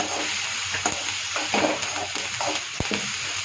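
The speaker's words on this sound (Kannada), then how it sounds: "ಕೆಂಪಗಾಗೋ ಥರ ಹುರ್ಕೋಬೇಕು ಚೆಂದಾಗಿ ನೋಡ್ರಿ ಈ ಥರ" Chopped capsicum fries in oil in a pan with a soft continuous sizzle, broken by the scraping and tapping of a spoon stirring it, with one sharp knock near the end.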